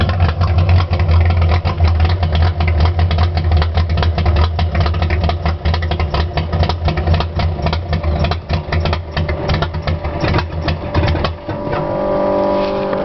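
Ford Mustang fitted with a new motor and cam idles loudly and close, a deep choppy lope with rapid uneven pulses throughout, settling briefly near the end.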